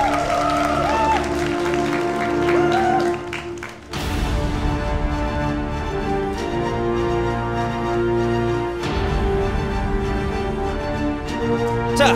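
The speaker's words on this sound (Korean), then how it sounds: "정글라마 선수에게 정말 다시 한번 큰 박수 부탁드립니다" An audience at a Hearthstone esports tournament claps steadily throughout, a dense wash of applause under a voice speaking early on, with music-like tones mixed in.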